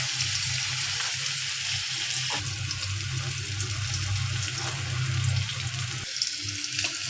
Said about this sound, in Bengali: আমি এবার চৌকো চৌকো করে আগে থেকে কেটে রেখেছিলাম পনিরগুলো ভেজে নেব